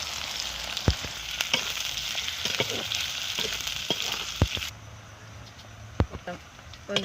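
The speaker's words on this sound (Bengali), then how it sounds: "পেঁয়াজটা ভাজা ভাজা হয়ে গেছে" Chopped onions fry in a pan with cardamom, cinnamon, black pepper and bay leaf: a loud, crackling sizzle broken by sharp stirring clinks, then the sizzle drops away while scraping knocks continue.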